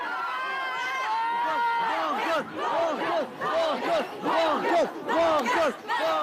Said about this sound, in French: Des mouvements de foule un peu partout sur la place de la Monnaie et aux alentours, et à nouveau des scènes de violence.